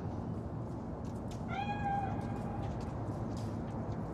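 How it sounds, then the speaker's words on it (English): A single drawn-out cat meow from a video game set in Cyberpunk 2077's world, rising then falling over about a second, over a steady low ambient hum and faint background noises with no talking. "It's just a cat."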